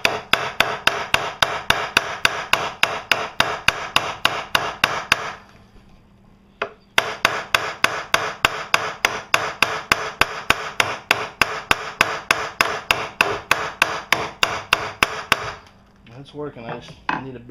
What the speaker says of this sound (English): I've got metal plates under here so I can peen these down